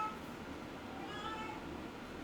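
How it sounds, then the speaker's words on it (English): Cats fighting and meowing in the background, faint and distant under steady room noise, with a few brief thin yowls rising through a low continuous hum. "Oh, the cats are fighting in the background."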